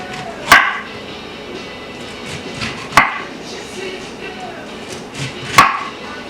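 A knife chops through pineapple on a cutting board in three distinct, evenly spaced thuds, close and fairly loud, with quiet handling sounds between the cuts.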